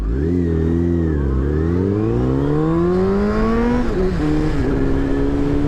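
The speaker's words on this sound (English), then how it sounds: "No, you just straight pipe the exhaust, that's what you did." A Mazda Miata with a straight-piped exhaust revs hard and close, its raspy engine note climbing steadily, dipping briefly and rising again without pause.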